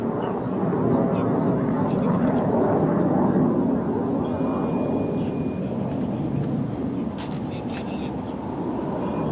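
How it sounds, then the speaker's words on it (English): Military aircraft diving past during an armed forces display, a loud, steady jet roar that fills the whole stretch, with a voice commenting over it. "shortly the third aircraft will be in dive, and here it comes"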